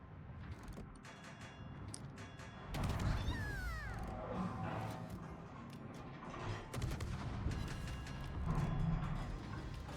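The battleship Nebraska fires armor-piercing shells in a naval battle video game, with heavy booming blasts and rumbling salvos over busy in-game effects and a faint tonal sweep.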